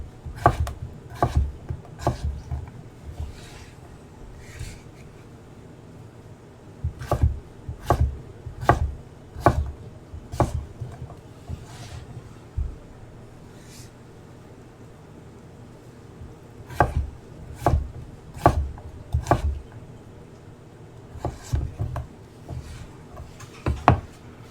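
A knife dices potatoes on a cutting board for mashing, sharp close chopping strokes in quick bursts of several cuts separated by short pauses.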